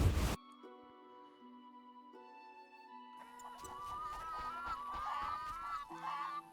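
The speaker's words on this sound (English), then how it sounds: "My goodness, you chickens. You're making so much noise over here." Chickens in the video game The Witcher cluck and squawk over a bed of tonal background music. The calls grow busier and more layered in the second half, moderately close.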